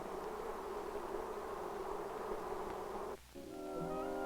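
Honeybees buzz in a steady, faint drone that holds for several seconds, then drops away briefly before a higher tonal hum rises.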